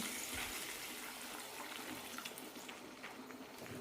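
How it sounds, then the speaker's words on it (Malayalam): Plain water poured into a pan of cooked-down tomatoes for a vermicelli upma, giving a steady broadband rush of liquid that runs throughout without pause. "ഒന്നേക്കാൽ കപ്പ് വെള്ളം ഒഴിക്കാം"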